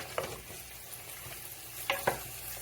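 Coconut chicken stirred in a pan with two spatulas gives a faint, low sizzle under scattered scrapes and knocks, with a few sharper clacks toward the end and no talking.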